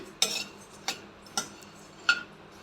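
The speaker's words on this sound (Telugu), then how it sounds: "కలుపుతూనే ఉండాలండి ఎక్కడ కూడా స్పూన్ అనేది ఆపకూడదు మనం స్పూన్ ఆపితే కింద ప్యాన్ వేడవుతుందండి" A spoon scrapes and taps against a pan while coriander seeds roast over a low flame, giving four separate clinks spaced unevenly and heard up close.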